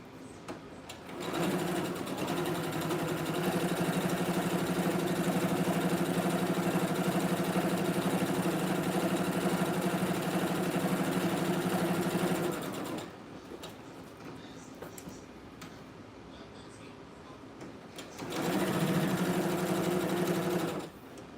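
A sewing machine top stitching fabric runs in two long steady bursts, the first lasting about eleven seconds and the second shorter, with a brief quiet pause between them.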